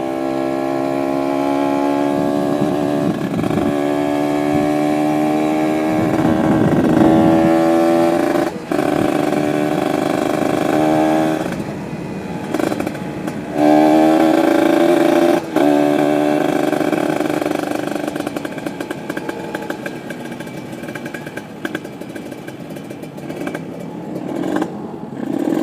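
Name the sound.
Kawasaki Ninja RR motorcycle engine whining, primary gear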